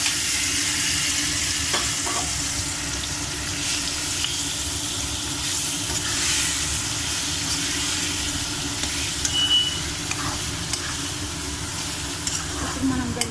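Mango pieces and curry leaves fry in a hot pan, giving a steady, dense sizzle that runs unbroken the whole time, with faint stirring clatter mixed in and no one speaking.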